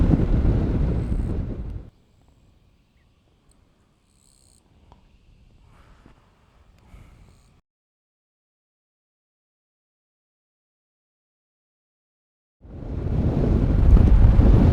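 Wind roars over the microphone of a Honda Forza MF17 scooter on a summer road. Loud rushing gusts open the ride, then near silence follows, and the heavy rush returns at the end.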